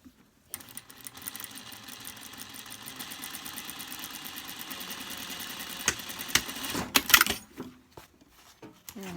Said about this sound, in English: So we're going to reverse stitch here and 1/4 inch seam allowance.